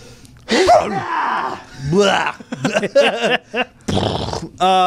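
A single sharp sneeze bursts out amid short vocal sounds and breaths from a person nearby, close and fairly loud.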